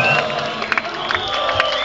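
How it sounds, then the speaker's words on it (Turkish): A crowd cheers and shouts for a singer at a live performance, a dense, continuous wash of voices with scattered whoops and bursts, fairly close and loud throughout. "Evet Murat'ı alkışlıyoruz"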